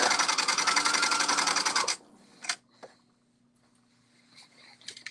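A sewing machine stitches a 5/8 inch seam on a novelty kimono, running in a loud steady buzz for about two seconds before stopping, followed by a few quiet clicks and handling sounds.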